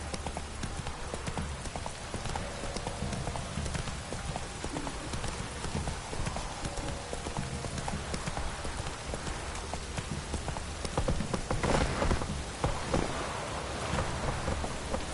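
Roach, the horse in the video game Witcher 3, clip-clops along in a steady trotting rhythm. The hoofbeats sound close and run throughout, over a constant patter of rain, with a low rumble late on.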